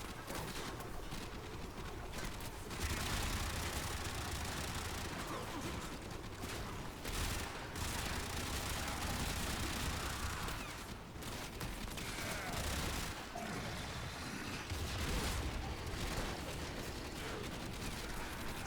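Sustained gunfire in Warframe, aimed at Clem, rattles in continuous dense bursts with brief lulls, mixed with game effects, and a faint voice is heard now and then.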